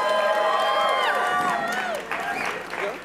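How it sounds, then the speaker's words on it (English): Audience clapping and cheering for filmmakers coming on stage at a live talk-show event, loud and close, with whoops and shouts rising over the steady applause. "Round of applause for them."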